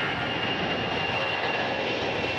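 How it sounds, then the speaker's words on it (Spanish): Two military combat jets fly over after departing March air base in Moreno Valley for a tribute flyover, a steady, loud, broadband engine roar that holds evenly throughout with no voices. "dos aviones de combate salieron de la base aérea militar March en Moreno Valley"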